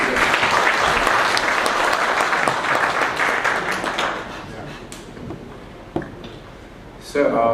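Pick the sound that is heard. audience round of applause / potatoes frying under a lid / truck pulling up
audience round of applause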